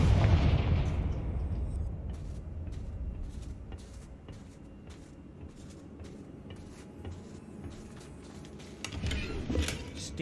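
A Confringo blasting spell goes off in Hogwarts Legacy as a booming burst at the start, then decays into a rumbling tail under low game ambience and light clicks, with a smaller thump near the end.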